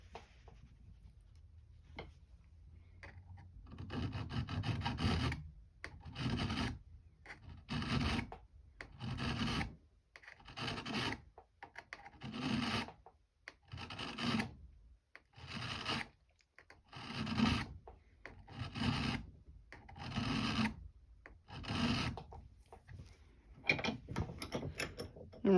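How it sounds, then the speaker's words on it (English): A hand file rasps across a screwdriver tip being fitted for gunsmithing, about a dozen quiet back-and-forth strokes in an even rhythm, close by and alone. "Let's go ahead and file it some."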